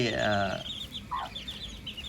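Chickens cluck on a small farm where they are fed ripe papaya, giving a few short clucks and calls, fairly faint against outdoor background noise.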